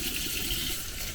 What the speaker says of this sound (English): I've got hot water coming through my faucet right now.